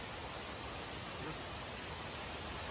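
Steady, close hiss of flowing water, an even broadband rush holding constant for a few seconds with no voices over it.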